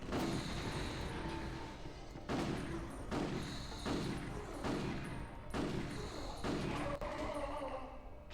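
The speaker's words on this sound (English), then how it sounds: "The shotgun, though. Good damage. Good range." Shotgun blasts in the Ghost in the Shell video game, a series of roughly eight heavy booming shots fired at a steady rhythm, each with a short decaying tail over a busy game background.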